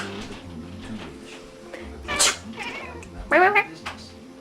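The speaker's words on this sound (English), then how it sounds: "Meow, meow, meow." A pet cat meows twice, sharp and close, over soft background talk and a faint television advert.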